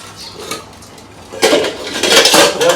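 Steel cooking pots clank and scrape together as they are handled in a home kitchen, a few close metallic knocks that grow busier toward the end.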